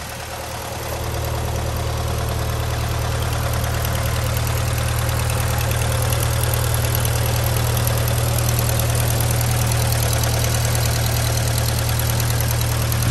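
A 1952 Willys M38A1 Jeep with its Hurricane engine idling steadily, a loud, even burble heard up close under the bonnet for the whole stretch with no talking.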